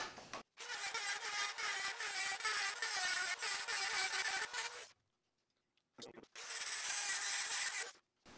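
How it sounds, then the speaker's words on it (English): A power tool enlarges a hole in a fatbike frame so a bearing will fit. It gives loud, rough grinding bursts with short silent pauses between them. "And the hole here is too small, so I'm just going to enlarge it."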